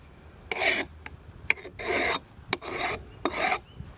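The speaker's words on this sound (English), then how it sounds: "Here I'm taking a trowel and just smoothing out some of the high points." Trowel scraping over the high points of a CETME C demilled trunnion, five rasping strokes of about half a second each in a steady rhythm, close and fairly loud with short clicks between strokes.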